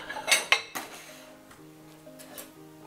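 Plates and cutlery clink at a home dinner with a guest: a few sharp, close clinks of dishes and silverware at the start, then quieter scraping and settling over a steady low background.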